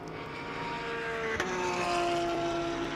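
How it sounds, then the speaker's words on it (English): A Ferrari GT race car powers out of a corner at Watkins Glen during a GT World Challenge America race, its engine a steady, loud drone building slightly as it accelerates, with no one talking. "now we get to this Ferrari as he comes out of the toe of the boot"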